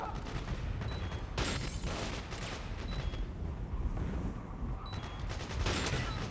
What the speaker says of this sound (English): Who's shooting, bro?